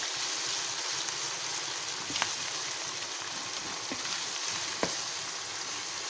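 Minced meat frying in a pan for chapshoro, a steady soft sizzle with a few sharp crackles and spoon scrapes, close and alone with no talk.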